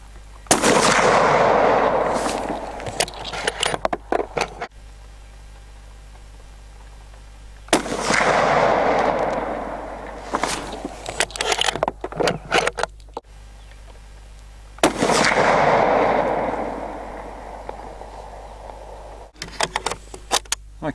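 An Anschutz 1780 bolt-action rifle in .308 fires Fusion rounds, three loud sharp reports spaced several seconds apart, each with a long rolling outdoor echo and trailing clicks of the action between shots.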